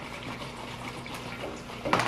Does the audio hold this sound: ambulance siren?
no